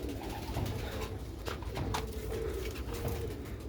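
A pair of pure Sialkoti pigeons coo softly and repeatedly at close range, low rolling calls over a faint background hum, with no talking.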